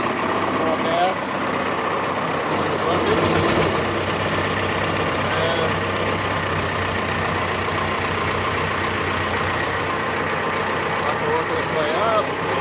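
A John Deere utility loader tractor engine idles as it warms up, a constant close mechanical drone with steady, even chugging throughout and faint voices in the background.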